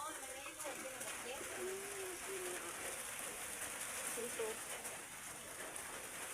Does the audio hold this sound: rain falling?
yes